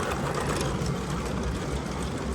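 A PIKO G scale RC model locomotive runs on battery power: a steady, even motor whir with a dense mechanical hum that holds level and unbroken throughout.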